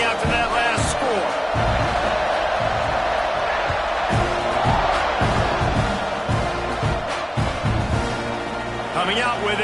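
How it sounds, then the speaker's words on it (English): A stadium crowd roars in the video game College Football 26, a loud continuous wash of cheering with scattered thuds and whoops, while a commentator talks over it throughout. "this crowd is buzzing after that last score"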